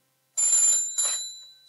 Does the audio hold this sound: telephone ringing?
yes